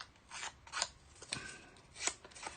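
Scissors scrape and rasp along paper edges to distress them, giving a series of quiet, dry scratching strokes at an uneven rhythm in a calm indoor room.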